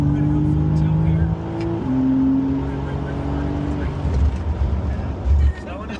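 BMW car on a racetrack at the Spartanburg, South Carolina M School pulling hard at full throttle, a loud steady engine drone rising in pitch through a gear change, with a voice speaking over it.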